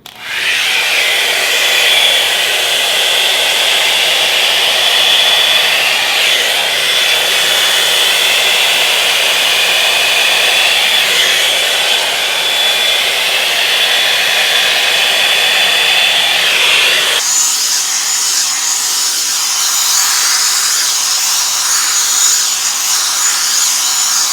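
Revlon One Step hair dryer and volumizer brush running on its highest heat setting while styling curly hair, a loud steady whooshing blower hum throughout that shifts to a higher-pitched tone partway through.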